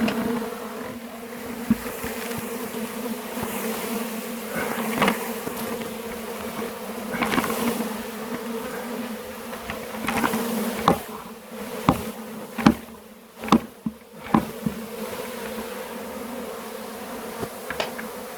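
A honeybee swarm knocked from its hive into a bucket buzzes loudly and continuously, with sharp knocks and thuds breaking in toward the end.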